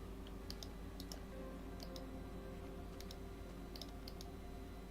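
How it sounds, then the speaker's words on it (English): Loud computer keyboard keys and mouse buttons click in scattered bursts close by, sharp ticks spaced irregularly over a steady low background hum from PC gaming. "my keyboard and my mouse are unfortunately very loud"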